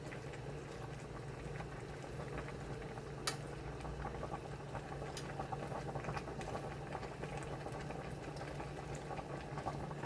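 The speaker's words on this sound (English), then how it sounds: "I'm going to put the top on as soon as they cook down, just a short, about 5 or 10 minutes." Collard greens boiling in a pot, a quiet, steady bubbling patter with a faint hum beneath and a single soft knock, close and without talk.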